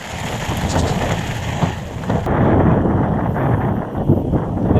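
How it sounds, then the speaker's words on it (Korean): Strong, continuous wind at Gimnyeong Beach, Jeju, during a rainy camping trip, buffeting the microphone in heavy gusts, a broad roaring rush with no voices. "지금도 계속 바람이 불고 있습니다"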